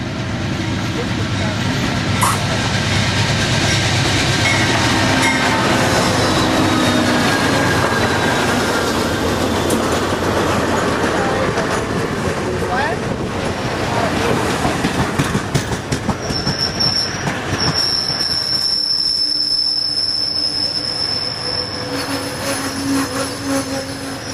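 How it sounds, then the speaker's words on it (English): A train rumbles into a station, wheels clattering loudly, then slows as metallic squeals rise. Voices can be heard faintly amid the noise. "Our train's finally turned up."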